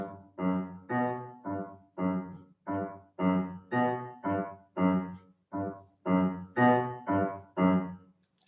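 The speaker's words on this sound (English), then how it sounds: "A syncopated funk bass line." A syncopated funk bass line, heard as a series of short, punchy low notes in a bouncy, off-beat rhythm, close and alone.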